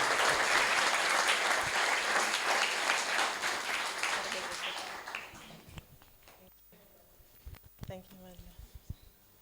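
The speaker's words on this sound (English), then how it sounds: "May we please give a warm, warm round of applause to Dr. Tanya Jacob" Warm applause for a speaker at a luncheon on gender-based violence prevention starts loud and sustained, then tapers off over several seconds into scattered claps, with voices and room noise as it ends.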